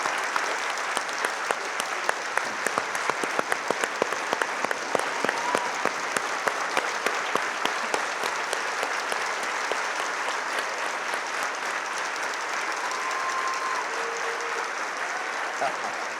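Sustained applause from a large audience at a State of the City event, dense clapping that carries steadily throughout, with a few faint voices mixed into the crowd noise.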